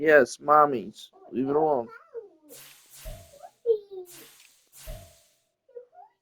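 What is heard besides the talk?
cat meowing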